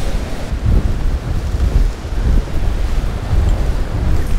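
Heavy North Sea winter storm waves around a small sailboat at sea, loud surging rumbles and crashes rising and falling every second or so, with strong wind buffeting the microphone throughout.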